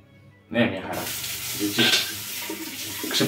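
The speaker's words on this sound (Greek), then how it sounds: "Ξεπλένω με κρύο νερό" Cold tap water running into a sink for rinsing after a wet shave with a Gillette 7 o'clock Sharp Edge blade, starting abruptly as a steady, close splashing flow with short bursts of voice over it.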